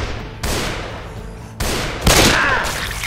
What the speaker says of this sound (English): Let's not all start shooting each other now.